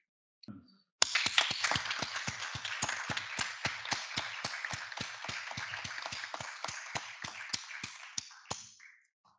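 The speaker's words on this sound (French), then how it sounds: "Ces applaudissements sont particulièrement mérités" Audience applause after a speech on the economy, sustained clapping of many hands lasting about seven seconds with distinct individual claps, then trailing off into silence.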